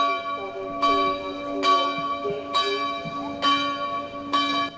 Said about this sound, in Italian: Un silenzio rotto solo dal suono delle campane